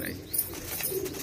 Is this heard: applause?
no